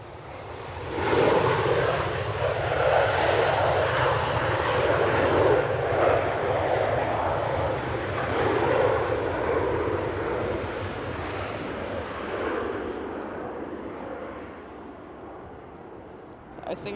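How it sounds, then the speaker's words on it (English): A Singapore Airlines Airbus A350-900 jet departs Manchester Airport with a loud, broad roar that swells in after a second, holds steady and slowly fades toward the end, buffeted by wind noise. "Singapore Airlines A350-900. Next departure, heading back to Singapore."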